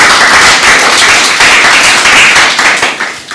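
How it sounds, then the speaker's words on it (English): Loud, close clapping from a leadership conference audience, many hands beating together in a thick continuous burst that thins slightly toward the end. "please clap for them"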